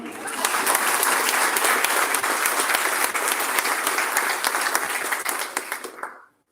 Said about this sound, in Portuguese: E o meu xará tem que ser palmas dobradas,